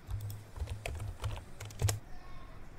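Rapid, uneven keystrokes on a computer keyboard, close and clear with no voices, stopping abruptly just before the end.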